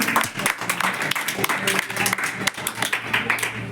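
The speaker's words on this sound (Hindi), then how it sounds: "एक बार तालियां बजा दीजिए बच्चों सभी लोग" Children clapping to welcome a guest, Swami Shri Rupanand Maharaj, at a rural yoga event, a moderately loud burst of many hands in uneven rhythm lasting throughout.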